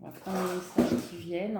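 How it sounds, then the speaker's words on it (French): A cat knocks over household items, making one brief, sharp clatter midway through while someone keeps talking. "Excusez-moi pour le bruit, c'est mon chat."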